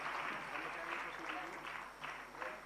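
Faint applause from an audience at a religious gathering, a soft, even patter of many hands that holds steady for a few seconds, with voices murmuring beneath it.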